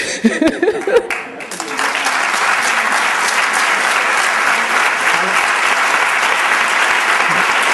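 An audience at the Aulablog inaugural conference breaks into applause for the speaker, Francis Pisani; a brief voice and scattered claps at first swell into loud, steady, sustained clapping from a large crowd.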